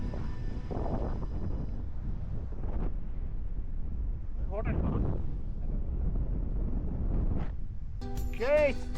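Gusty wind buffets the microphone in low, continuous rumbles at a waterfall viewpoint, with voices talking intermittently over it.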